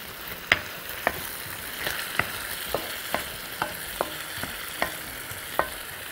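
Potatoes sautéing in a pan with butter and minced garlic give a soft, steady sizzle, punctuated by about a dozen sharp scraping and clinking stirs of a utensil against the pan, fairly close and fairly quiet.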